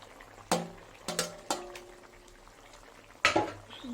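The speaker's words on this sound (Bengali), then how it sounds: "এবার দিয়ে দেবো এই যে ভেজে রাখা বেগুনগুলো দিয়ে দেবো" Fried eggplant pieces go into a simmering fish curry in a pot, with sharp metallic knocks and clatters from the utensil and pot. A few distinct impacts sound close over a quiet low hum, with no talking.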